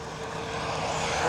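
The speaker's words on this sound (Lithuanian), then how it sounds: "Dronas. Ir dronas." A steady whirring motor hum from a drone in flight, broadband and constant, gradually growing a little louder.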